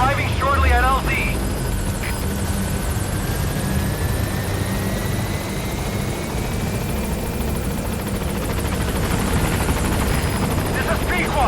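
B-Quad support helicopter from Metal Gear Solid V: The Phantom Pain arriving at a landing zone, a steady, loud rotor and engine roar filling the whole stretch, with a brief voice at the very start.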